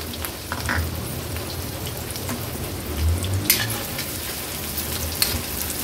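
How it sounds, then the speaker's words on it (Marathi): Chopped small onion and 5 to 6 crushed garlic cloves frying in hot oil over a medium flame for a Marathi Agri-Koli style fish thali, giving a steady close sizzle and crackle with no talk. "मीडियम फ्लेमवर कांदा आणि लसूण व्यवस्थित शिजवून घ्यायचंय।"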